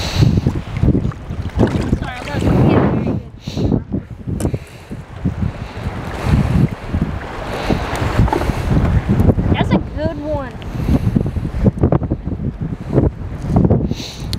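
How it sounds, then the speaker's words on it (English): Strong wind blows across a lake during bass fishing from a boat, buffeting the microphone in loud, gusty rumbles while people talk over it. "It's very windy."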